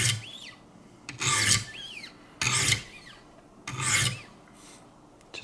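A Schrade Old Timer knife is drawn across lower-grit stones on a Wicked Edge sharpening system, making four separate raspy scraping strokes spaced about a second apart, close and fairly quiet with gaps between.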